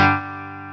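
A Yamaha GW10 multi-effects unit puts out a short distorted guitar chord with gain, loud at the attack and then sustaining as it fades slightly, with no talking.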